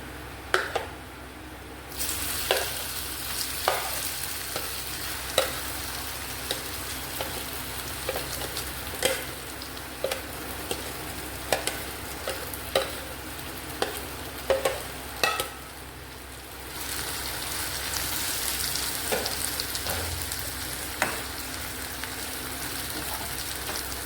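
Raw mango pieces sizzling and frying in a hot pan while a spoon stirs them, with steady crackle and a run of sharp scraping clicks throughout and no talk.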